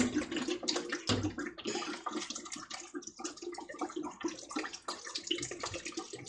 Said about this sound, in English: go ahead and dump that lemon juice right into your pot